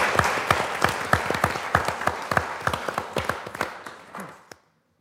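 A theater audience applauds the actors after a play about the Rosenberg trial. Sharp, distinct claps from a smallish crowd rise and fall, thin out, and stop abruptly near the end, leaving silence.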